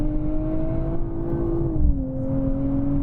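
A Nissan Z NISMO engine pulls hard in third gear, a steady loud drone with smooth rising pitch that dips briefly as revs settle, close and continuous with no speech.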